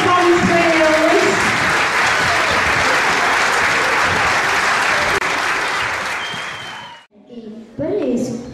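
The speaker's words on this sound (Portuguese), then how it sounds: "Com uma grande salva de palmas para eles." Loud, dense applause from an audience for graduating students at a 2016 finalists' ceremony, fading out near the end before a voice speaks.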